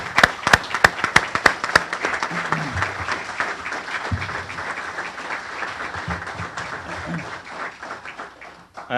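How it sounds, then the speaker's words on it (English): Audience at a Lower Providence Township board of supervisors meeting breaks into sustained applause, sharp claps at the start settling into a steady roomful of clapping that fades slowly over several seconds. "I'd like to ask you to join me in a round of applause."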